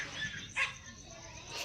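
A dog barks outdoors during rain at moderate distance, one sharp bark standing out over a soft background hiss, with a fainter yelp near the end.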